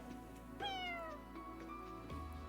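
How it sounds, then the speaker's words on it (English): A single cat meows once, a clear falling cry rising sharply over low, steady background sound and fading after about half a second. "It's a cat!"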